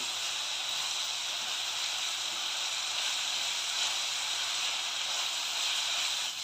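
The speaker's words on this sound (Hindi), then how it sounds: "मैंने गैस की आंच तेज़ की है। अब मैं इस पर प्याज को अच्छे से फ्राई करके लूँगी।" Chopped onions fry in a pan over a high gas flame, giving a steady, even sizzling hiss that holds throughout with no pauses.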